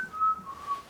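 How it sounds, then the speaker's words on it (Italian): A lone person whistles in the dark: a thin, steady, high whistle holding one drawn-out note for under a second, faint and close, with no other sound around it. "chi cacchio ha fischiato?"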